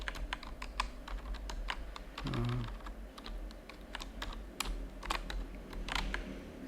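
Keystrokes on a computer keyboard patter in quick, uneven bursts while someone types a name and address into a Windows form. A brief low hum rises in the middle, and no one speaks.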